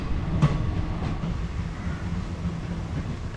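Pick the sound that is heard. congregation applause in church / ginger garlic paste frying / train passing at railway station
train passing at railway station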